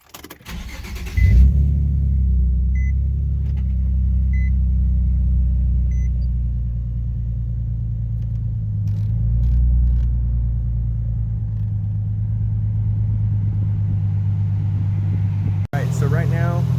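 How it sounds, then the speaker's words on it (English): A car engine runs steadily with the air-conditioning fan blowing at full blast on recirculation, a constant low rumble and whooshing hum held for most of the stretch, with a short knock near the end. "So just make sure that your car is on and running."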